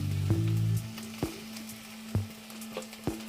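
Chopped tomatoes frying with onions in a pan for mutton chukka crackle and sizzle under a steady low hum. A few sharp, separate pops or taps stand out clearly from the quiet bed of frying, with no talking.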